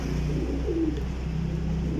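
Jaunsari pigeons cooing at a market sale, a soft low coo rising briefly over a constant rumbling background, near and faint.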